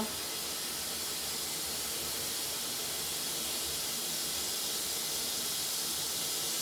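Cumin seeds sizzle in hot oil in a home kitchen, a steady, loud, broadband hiss that holds constant throughout with no talking.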